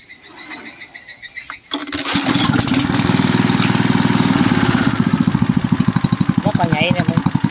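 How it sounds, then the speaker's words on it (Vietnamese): A Subaru Robin engine-driven water pump with a loud muffler is started after quiet handling noises, catching with a roar and then settling into a loud, close, rapid chugging run. "Rồi nhờ anh trai test thử cho bà con mình coi cái máy Gobin này đây"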